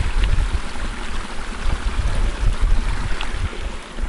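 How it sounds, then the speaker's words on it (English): Mountain stream flowing near a wild campsite on Moel Famau in Wales, a loud continuous broadband rush of water mixed with gusty wind buffeting the microphone, close by and with no voices. "There's a stream there."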